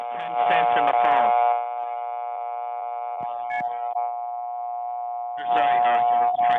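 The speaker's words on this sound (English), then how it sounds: "now it's going to put a loud tone until I put 10 cents in the phone" A payphone emits a loud, steady tone that continues until coins are inserted; the tone runs unbroken underneath, with a person talking over it at the start and again at the end.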